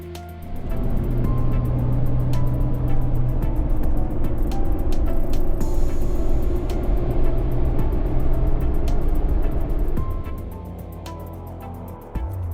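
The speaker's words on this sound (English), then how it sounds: "I wanted to have a truck with slightly oversized tires so that it would make this sound when I drove it" A Jeep with slightly oversized tires drives along a road, giving a loud continuous tire hum and engine drone from inside the vehicle that eases off near the end.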